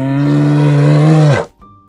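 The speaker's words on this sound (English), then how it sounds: "Do you know the sound that the polar bear makes?" A polar bear's deep, sustained growl-like bellow, loud and close, holding steady for over a second before cutting off, followed by a faint high tone.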